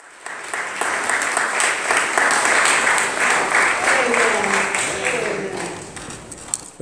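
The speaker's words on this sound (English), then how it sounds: "let's clap our hands for Jesus" A church congregation claps along for Jesus during worship, a dense sustained wash of many hands with singing voices running through it, loud and steady from start to finish.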